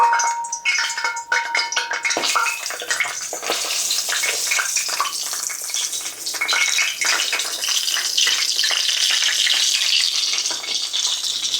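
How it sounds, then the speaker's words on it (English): Breaded chicken thighs fry in a pan of oil for an Easter dinner, giving a loud, dense, continuous crackling sizzle heard close up without talk. "I like to fry the chicken, but not fry it done, because the breading gets a little too crispy"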